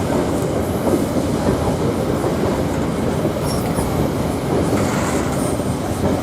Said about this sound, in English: And we've got a freight train, 66168 on this freight train, DB Cargo UK.